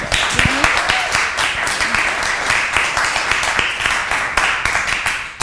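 A seated audience at an academic conference's opening session gives a round of applause for the student organizers, with clear individual claps close by over a broader patter that continues steadily.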